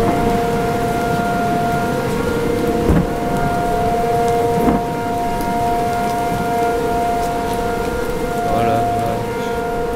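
In a Minecraft storm with a tornado, steady civil defense sirens wail in sustained tones over rain and occasional thunder cracks, loud and continuous throughout.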